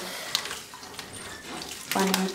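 Tap water running into the tub of a washing machine before a heavy Vicky single quilt is added, a steady faint splashing stream that grows louder and fuller toward the end, with no talk.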